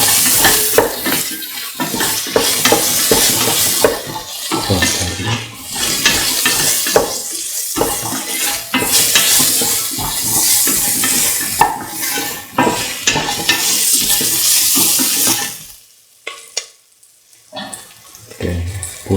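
Green chillies fry in a pan for a beef and potato coconut milk rice dish: a close, steady sizzle with repeated stirring scrapes and clinks of a utensil against the pan, fading near the end.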